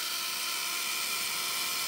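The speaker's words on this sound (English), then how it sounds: "And this is the Ranger heat tool." A Ranger heat tool blows hot air to dry paint on craft greyboard card, giving a steady, close, hissing whir that stays constant throughout the short clip with no speech.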